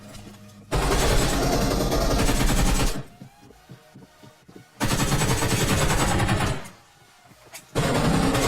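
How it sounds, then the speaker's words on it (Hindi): Bursts of rapid automatic gunfire in BGMI (Battlegrounds Mobile India) at Rozhok, loud and sustained, broken by two short pauses filled with quieter clicks and movement. "रोजहॉक में फायरिंग के साउंड आ रहे थे जैसे ही आए"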